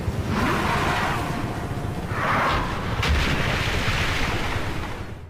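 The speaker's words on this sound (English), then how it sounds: "Battlefield 4 touted its fancy new water effects when it came out" Battlefield 4's Paracel Storm map carries a steady, loud ocean roar with surging waves and stormy wind, under occasional distant thumps of battle.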